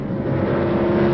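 Race cars at the 1970 Tony Bettenhausen 100 in Springfield flashing past the start-finish line, a loud steady engine drone with a sustained tone that holds for about a second, with no voices.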